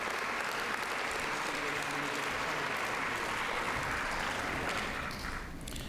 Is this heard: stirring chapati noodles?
no